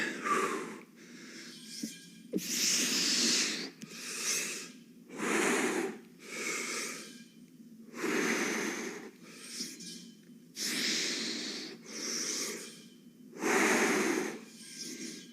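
Heavy, rhythmic breathing during exercise, close up, with loud strained inhales and exhales repeating steadily about every second, no talking.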